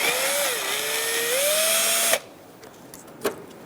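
A power drill with a Phillips bit whines loudly and continuously for about two seconds while removing bolts from a Hyundai Accent's cooling fan assembly, its pitch shifting slightly, then cuts off, followed by a quiet clack.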